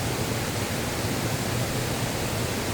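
Water crashes continuously from a waterfall where a trail is cut through the middle of the falls, giving a dense, even roar at close range and nothing else.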